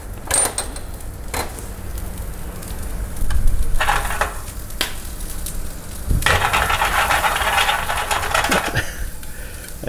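Butter sizzling in a frying pan with live superworms, a steady crackling hiss with intermittent clicks and scrapes, louder in the second half, with no voices.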